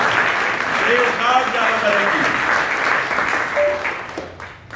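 Loud congregation applause rises at a church healing service, a broad wash of clapping with voices calling out over it before it tapers off at the end.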